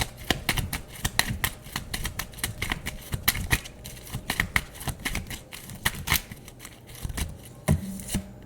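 Tarot cards are shuffled continuously by hand, with rapid, crisp riffling clicks and flutters in irregular bursts heard close up for several seconds without talk.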